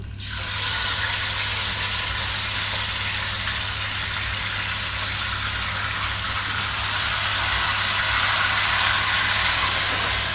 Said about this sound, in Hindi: जिस ऑयल में मैंने अनियंस फ्राई किए थे अब मैं उसी में ये कलेजी फ्राई कर लूँगी।